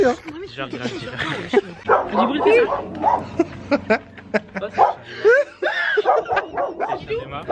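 A dog barks, yips and whimpers in rapid, excited bursts close by, mixed with people talking and laughing indoors during an iftar gathering.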